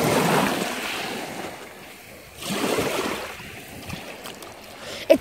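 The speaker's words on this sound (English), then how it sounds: "there's someone coming by on a boat right now" A boat passing on the water at a beach, its engine a low wash that swells and fades under wind buffeting the microphone and the sound of waves.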